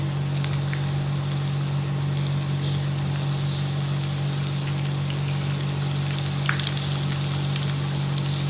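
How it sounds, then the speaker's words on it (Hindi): Chicken nuggets with cheese filling, coated in egg and breadcrumbs, light frying in oil over a low flame: a steady, even sizzle with fine crackling pops running throughout, alone and close. "ये अब हम इसको धीमी आंच पे लाइट फ्राई करेंगे, लाइट गोल्डन।"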